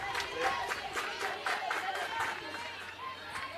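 Softball dugout of a team cheering and chanting during a state preliminary final game, a steady crowd-like mix of spirited shouts and calls at moderate distance, rising and falling in bursts without a break.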